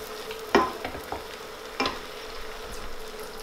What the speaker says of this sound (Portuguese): Vamos deixar que a nossa manteiga derreta.